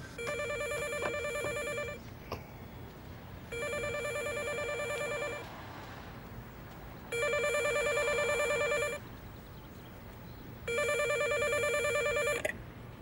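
A telephone rings in four evenly spaced bursts of an electronic trilling bell, each about two seconds long with pauses between, clear and moderately loud over a faint room background.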